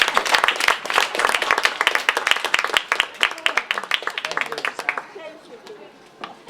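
A small audience at an education talk gives a round of applause with distinct, fairly close hand claps. The clapping thins out and fades after about five seconds into a quieter room.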